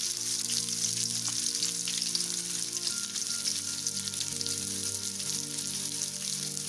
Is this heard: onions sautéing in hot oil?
yes